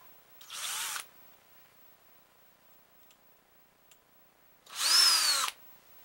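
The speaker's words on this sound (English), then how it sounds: "You want to drill a tiny little hole" Two short bursts of a small power drill whirring as it drills a tiny hole in a CPVC cap, separated by several seconds of near silence with a couple of faint clicks.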